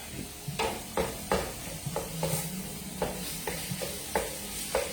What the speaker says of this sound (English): So basically, I'm browning the Italian sausage and the bacon.